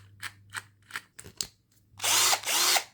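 A cordless drill whirs in several short, loud bursts, then runs for two longer spins close up.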